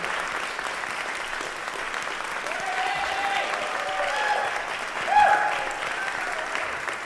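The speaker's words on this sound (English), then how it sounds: "You're going to get applause whether you like it or not," A church congregation at a Sunday service applauds steadily and moderately, a dense wash of clapping that swells slightly midway, with a brief louder bump and faint voices underneath.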